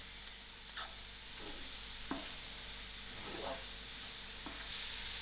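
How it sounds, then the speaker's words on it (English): Finely minced mushroom being mixed into an onion braise in a pan, a quiet hiss under repeated soft scraping stirs spaced about a second apart, fairly faint and without talk. "I'm adding it to my onion braise. I'll give this a nice mix."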